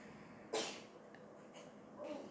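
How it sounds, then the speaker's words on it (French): A girl sneezes once, a sharp burst rising out of a faint quiet room, followed by a softer breathy sound a moment later. "il y a ma fille qui éternue"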